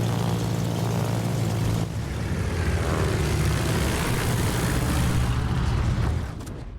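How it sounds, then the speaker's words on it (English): Anti-submarine warfare planes in World of Warships fly in as a steady droning propeller engine roar, loud and continuous, easing off slightly at the very end, with no speech. "Look at all those ASW planes coming in on them."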